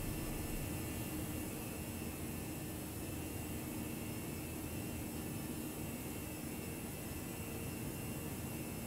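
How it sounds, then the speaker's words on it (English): Steady broadband wind rush in the X-Plane 11 flight simulator, heard from a Toliss A319 airliner, blending with a constant engine drone; a continuous, even wash with no talk. "I can hear a bit more wind."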